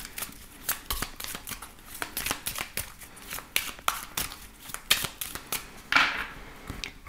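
A tarot deck is shuffled and cut by hand, giving a rapid, close run of crisp card riffles and snaps with small pauses between bursts and a slightly longer flutter near the end.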